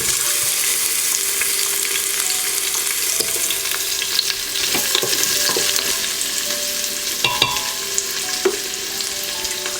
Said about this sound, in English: I saute the onions until they are translucent or almost translucent.